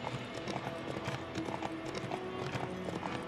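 Steady clip-clop of hooves from the horse Roach trotting in the video game The Witcher 3: Wild Hunt, a regular close rhythm with faint game ambience underneath.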